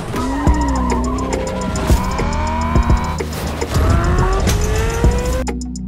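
PS5 racing simulator game sounds: a car engine rises and falls through gear changes while tires squeal and skid repeatedly, with scattered impact thumps, loud and continuous without talk.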